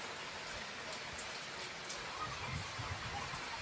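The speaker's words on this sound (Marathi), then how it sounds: "मोठा पाऊस झालेला तर आता बघा आता जरा कमी झालाय" Steady rain pours down in a dense, even hiss, with a faint patter of drops on a surface throughout.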